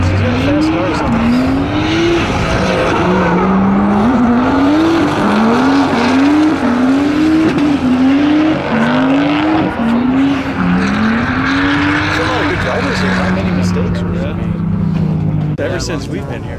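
At a drifting event, a car engine howls loud and close in repeated rising revs, one after another, with tire squeal and the roar of other cars blending through and people talking over it.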